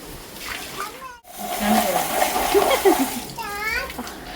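Water splashes and sloshes steadily as something is washed outdoors, close and moderately loud, while people talk and a voice cuts in over it.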